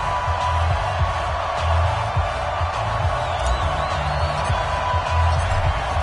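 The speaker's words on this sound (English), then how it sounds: "Bengals took the field to the delight of this sold-out crowd" Sold-out stadium crowd in a football video game, Bengals versus Los Angeles Rams in Cincinnati, a continuous broad roar of cheering with low rumbling swells, loud and steady.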